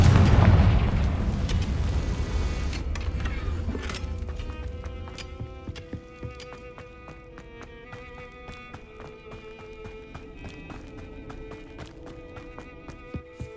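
A Confringo fire spell in Hogwarts Legacy bursts in a loud, deep blast that fades over a few seconds, followed by scattered light taps and clicks of game sounds.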